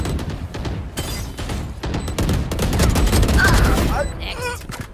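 Rapid bursts of gunfire ring out in a first-person shooter match around a planted spike, dense and continuous, with sharp impacts and shatters over a steady low rumble.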